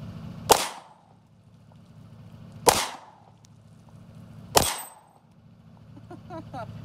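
Three sharp pistol shots from a Canik TP9 at a shooting range, evenly spaced about two seconds apart, each loud crack followed by a short ringing decay over a low background hum.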